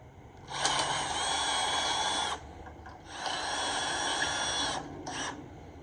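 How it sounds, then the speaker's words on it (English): A power drill whirs close by in two sustained bursts of a second or more each, followed by a brief third spin, while assembling the spar and hoop frame of a laundry-basket paramotor. "Gotta find a good place to drill."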